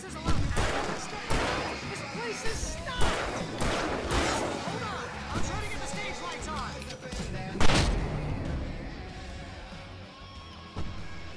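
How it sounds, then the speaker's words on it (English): Fireworks bursting in Alan Wake Remastered, a rapid series of loud, sharp cracks and booms at a rock-and-roll farm stage, clustered in the first half and then thinning to a few scattered bangs against a busy game soundscape. "I can set off more of the fireworks from here and help you out!"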